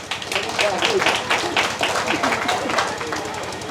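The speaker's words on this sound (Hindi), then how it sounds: "थोड़ा ताली बजा दीजिए।" Audience clapping on request at an outdoor gathering while a performer works with an animal, a steady spread of hand claps running throughout with voices talking over it.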